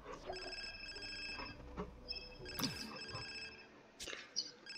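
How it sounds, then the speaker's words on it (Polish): In The Sims 4, a telephone rings as a faint electronic tone with layered beeps, repeating in short bursts against quiet game sounds. "O, dzwoni telefon."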